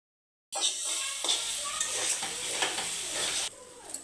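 Loitta (Bombay duck) fish crumble frying in mustard oil in a pan, a steady close sizzle with scraping stir and utensil clinks for about three seconds before the frying noise drops away.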